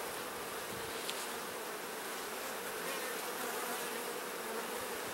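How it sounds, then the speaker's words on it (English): Honey bees buzz steadily inside a hive's honey super during an inspection, a dense, continuous close-up drone with no talking. "So there are definitely bees up in the honey super."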